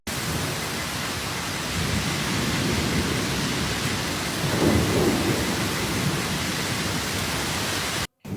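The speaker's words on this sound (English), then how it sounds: "We're having an electrical storm tonight." Night electrical storm in Sydney: heavy steady rain hiss with a low rolling thunder swell midway, continuous and loud until an abrupt cut near the end.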